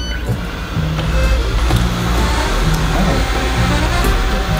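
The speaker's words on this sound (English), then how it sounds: "I put them on a robot vacuum so it just can roam around." A robot vacuum loaded with snacks roams across a dinner table, giving a loud, continuous motor whir with brushy, rattling noise and no voices.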